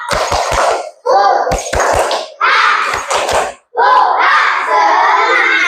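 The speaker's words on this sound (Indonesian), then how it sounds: "ayo kita ice breaking dulu ya. Tepuk semangat." Schoolchildren in a classroom chant the rhythmic 'tepuk semangat' clapping game in unison, sharp bursts of clustered claps punctuating their loud chanted lines with brief pauses between phrases.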